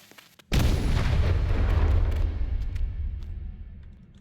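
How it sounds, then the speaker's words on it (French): A bomb blasts through rock in a mining video game: after brief quiet, one sudden loud boom with deep rumble that slowly fades over several seconds, no speech. "On va tester la bombe."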